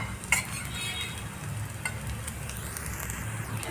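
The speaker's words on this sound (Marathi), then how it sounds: "दोन्हीही बाजूनी आपल्या कारल्याच्या चकल्या मस्त अशा फ्राय झालेल्या आहेत" Bitter gourd slices fry in a little oil in a pan, giving a steady close sizzle with faint scraping and stirring clicks. No voices.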